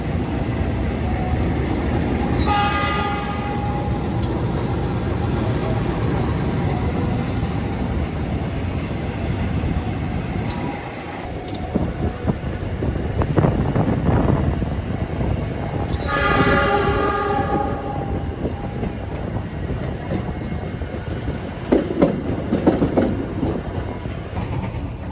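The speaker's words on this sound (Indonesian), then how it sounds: "Sinyalnya sudah hijau, berarti kereta api Cikuray sebentar lagi akan diberangkatkan." The Cikuray economy-class train pulls out of Purwakarta station with a steady rumble of wheels and carriage noise, broken by several blasts of the train horn that come and go over the run.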